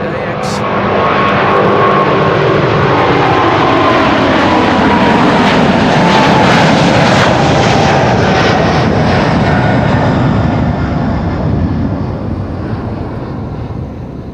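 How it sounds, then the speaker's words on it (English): A KLM Boeing 777-200 jet roars loudly during departure at Amsterdam Schiphol Airport, a broad sustained engine rumble with a slowly shifting tone that fills the whole stretch, with wind buffeting on the microphone. "This is KLM Flight 601 to LAX."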